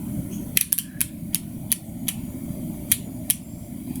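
Torque wrench on an Austin Healey 100/4 cylinder head, giving about eight sharp, distinct clicks at uneven intervals over a low hum of background noise.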